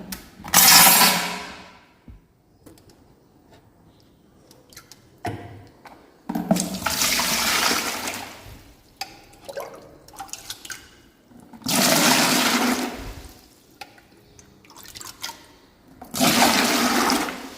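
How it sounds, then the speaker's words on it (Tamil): Aquarium water is scooped with a jug and poured into a bucket in several separate gushing pours, each a few seconds long with quiet gaps between, close by and fairly loud. "ஃபஸ்ட்டு இதிலேருந்து தண்ணியை வந்து நம்ம ஒரு 2 ஜக்கு எடுத்து ஆட் பண்ணிக்கலாம்."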